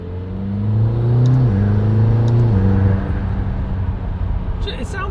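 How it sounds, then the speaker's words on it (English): A McLaren GT sports car engine rising in pitch as it accelerates, holding a strong steady drone for about three seconds, then dropping back to a lower hum, heard loud and close from inside the car. "It sounds okay, right? And I know McLarens have had a lot of people complaining about how they sound."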